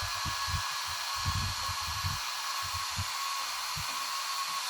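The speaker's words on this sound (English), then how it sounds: "I'm holding the fan because it's gonna turn on" The fan of a Ya Xun hot air rework station blows, a steady airy whoosh with a high whine running continuously, over soft low thumps and handling noise.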